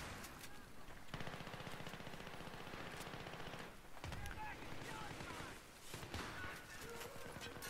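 Rapid USAS-12 shotgun fire in the multiplayer video game Battlefield 3, with dense bursts of shots and game battle noise, loud and continuous, while players talk over it.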